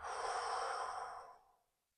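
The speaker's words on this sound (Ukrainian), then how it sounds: "Глибокий вдих через нос. Видих через рот." A long, deep exhale through the mouth during a guided breathing practice, a close, airy whoosh that holds steady for over a second and then fades out into silence.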